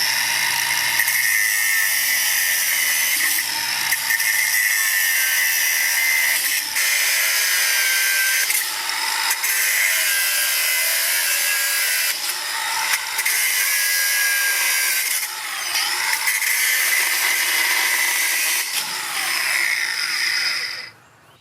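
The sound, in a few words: angle grinder cutting trellis wire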